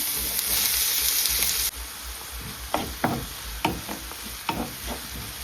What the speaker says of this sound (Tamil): இப்போ நான் வதக்கிறதுக்கு வெங்காயத்தை சேர்க்கிறேன்.